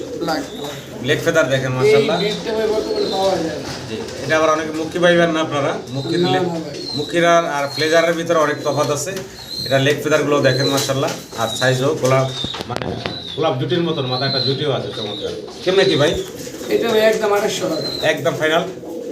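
Black German flazer fancy pigeons coo repeatedly, close by and fairly loud, with overlapping low, throaty calls throughout, while people talk nearby.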